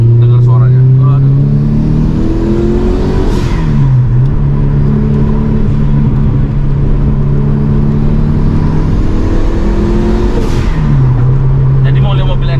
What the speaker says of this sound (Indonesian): RPM-nya naiknya cepet ya kan. Ringan, jadi mesinnya tuh ringan banget.